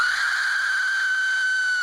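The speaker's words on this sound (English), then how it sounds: "This is called an Aztec death whistle." An Aztec death whistle gives a piercing, sustained shrill whistle, holding one harsh, wailing tone for about two seconds, loud and close.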